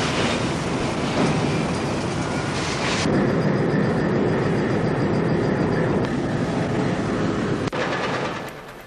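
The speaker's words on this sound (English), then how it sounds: "This train is loading what is known as fines" An iron ore freight train loading fines at a Hamersley Iron ore operation, a loud continuous rumbling and grinding roar with rattling wagons that holds steady throughout and fades only at the very end.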